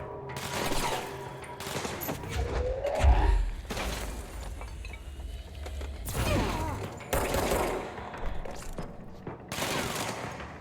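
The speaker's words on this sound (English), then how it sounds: "Where are they shooting from?" Gunfire bursts in the video game Control, with loud shots and shattering impacts coming in repeated waves over a steady game background, separated by brief lulls.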